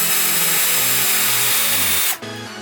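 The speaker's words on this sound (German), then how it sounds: "Auf der anderen Seite habe ich hier 2 Löcher vorgebohrt" Power drill boring pilot holes into wood for desk cross braces, a loud continuous whine that steps through several pitches, briefly cuts out near the end, then resumes.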